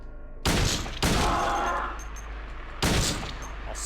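Three bursts of rapid gunfire in the video game Silent Hill 2 crack out loudly, each rattling briefly before fading, with a voice speaking a word between.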